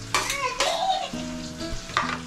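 Onions frying in a pan for chicken biryani, a sizzle under scraping and clinking as a utensil stirs against the metal, with a few sharp knocks.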